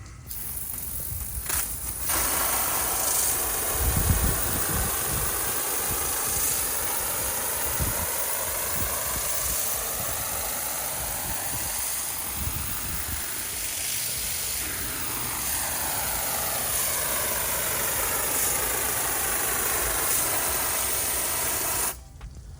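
Melnor M-Pact nozzle spraying a broad jet of water across a pool filter cartridge, a loud continuous hissing rush with slight shifts as it sweeps, starting and stopping abruptly at the ends.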